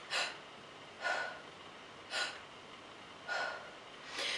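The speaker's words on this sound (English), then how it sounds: "It'll also give you an opportunity to practice your snap breaths," Quick singing snap breaths taken during a vocal warm-up: five sharp, close inhalations spaced about a second apart, each a brief airy gasp with quiet between.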